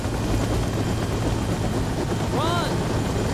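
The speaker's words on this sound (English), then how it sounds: "by the helicopter that's landing right there." A helicopter lands in the stealth video game Splinter Cell: Double Agent, its steady rotor and engine roar filling the scene continuously, with a brief rising tonal whine partway through.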